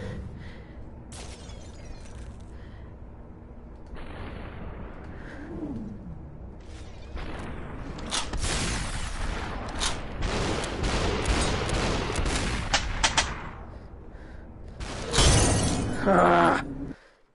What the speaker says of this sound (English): I shot two of them.